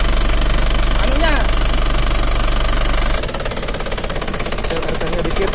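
An Isuzu Panther diesel engine idling too low at about 500 RPM during a tune-up, a rough, knocking, steady idle that shifts in tone partway through, heard close under someone speaking.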